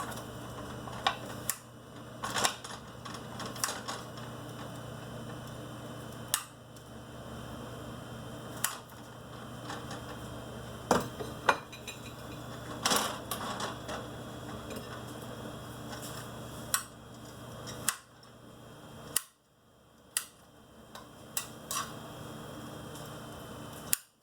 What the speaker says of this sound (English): I'm just slicing it up.